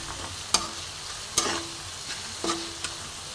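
A spatula stirs cabbage and chhana kofta curry in a hot pan, with a few sharp scraping strokes spaced apart over a soft, steady sizzle of frying, close and fairly quiet.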